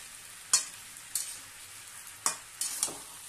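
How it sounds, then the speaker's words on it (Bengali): Potato pieces fry lightly in a pan for Bengali ghugni, with a soft steady sizzle and four or five sharp stirring scrapes spaced across the few seconds, close and alone. "একটু ভাজা ভাজা হতে হবে, আলুটা হালকা হালকা ভাজা হবে"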